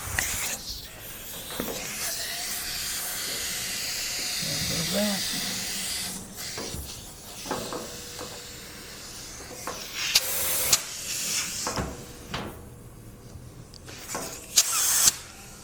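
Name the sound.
motorcycle tyre being reinflated with air after puncture repair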